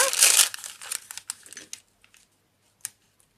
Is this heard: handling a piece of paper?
yes